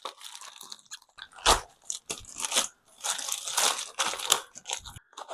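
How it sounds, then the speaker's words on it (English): Crinkly plastic packaging from a car parts order being handled and torn open, giving loud, close crackles and crunches in irregular bursts with short pauses between them. "Now, next we got another little package, which again, inside it has a little package."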